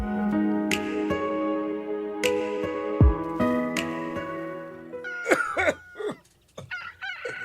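A few raspy coughs sound close by over a bed of music, followed by shorter chesty bursts near the end.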